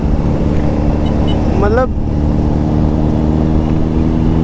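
A Kawasaki H2 SX SE superbike rides along in the street with a loud, steady engine drone and rushing road noise, while someone talks over it.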